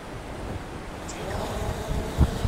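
Steady wind rushing over the microphone outdoors at Stonehenge, a low rumbling buffet with a few stronger gusts near the end.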